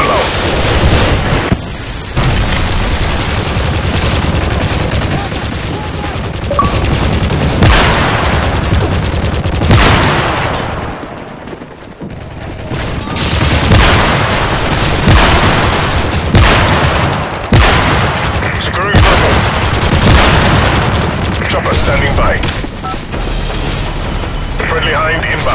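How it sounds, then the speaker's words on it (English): Predator missile strikes in Call of Duty: Modern Warfare 3, a series of loud, booming explosions that roll on and off over about twenty-five seconds, mixed with gunfire and dense battle noise. "First predator missile inbound."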